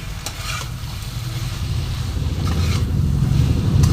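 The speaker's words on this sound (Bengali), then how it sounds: "এটাকে আমি আবার নাড়বো একদম ভাজা ভাজা করব" Fish head with coriander leaves being stirred and fried in a pan for a tomato fish-head dish: steady close sizzling with scraping stir strokes, growing slightly louder toward the end, no talking.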